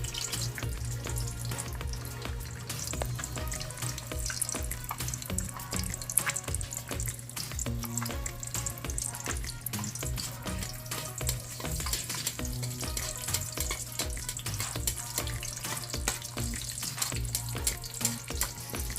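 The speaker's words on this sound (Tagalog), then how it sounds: "ipa-fry yung ating itlog" An egg fries in a pan for a homemade silog meal, giving a steady, close sizzle with fine crackling throughout, accompanied by a watery hiss and a low background hum.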